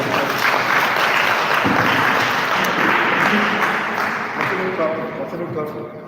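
An audience at a seminar applauds the president with sustained, dense clapping that slowly fades, while voices talk over it.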